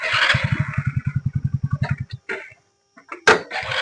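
A motorcycle engine low on petrol idles with a steady pulsing putter for about two seconds, then cuts out; brief knocks and a short rustle follow.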